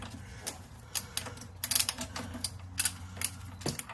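A 1926 Snap-On ratchet turns during an oil change on a 1930 Ford Model A Roadster, making soft, irregular clicking and ratcheting bursts close by with no talking.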